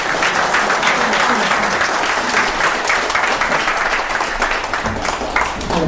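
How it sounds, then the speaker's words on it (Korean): A lecture audience in a hall claps and applauds steadily and loudly for the whole stretch, a dense continuous wash of clapping with no pauses. "다시 한번 박수 한번"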